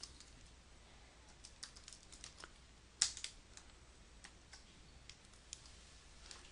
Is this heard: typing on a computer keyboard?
yes